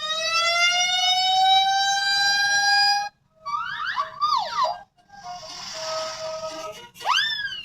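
A toy fire truck siren wails in a long, steady high tone, then breaks into rapid warbling and sweeping yelps, loud and close with no talking.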